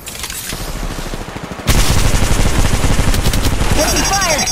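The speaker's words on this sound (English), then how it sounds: "Shots fired. Taking fire." Rapid automatic gunfire in the video game Apex Legends on an iPad Pro, starting quieter and then becoming a loud, dense, continuous burst, with electronic chirps near the end.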